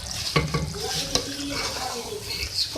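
Palak aloo gravy stirred in a pan with green chillies and chopped coriander, a soft steady sizzle with occasional spoon knocks and scrapes against the metal, close by.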